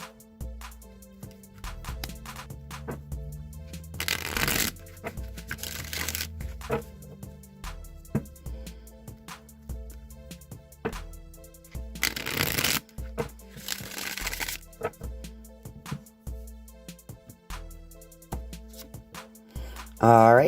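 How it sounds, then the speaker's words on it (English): Repeated riffle shuffles of a tarot deck, with crisp bursts of flapping cards separated by quieter handling and tapping sounds. "Let me just give these a few shuffles."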